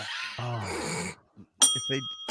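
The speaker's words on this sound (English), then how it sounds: "I don't usually use the bell on this show" During a podcast show, a small bell is rung twice, giving bright sharp dings with short ringing tails that follow and cut across talk.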